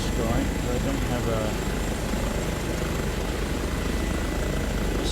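Airbus H145 in Coast Guard livery flies overhead on the Isle of Skye, its rotor and turbine making a steady loud thrumming roar that fills the whole stretch, with a voice talking underneath.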